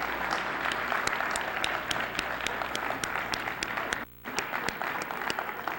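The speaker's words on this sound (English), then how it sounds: "let's give them a round of applause for taking time out of their busy schedule to attend this today" An audience applauds at a program on the legacy of Malcolm X, with sustained, fairly close clapping in which individual sharp claps stand out, interrupted by a momentary dropout before continuing.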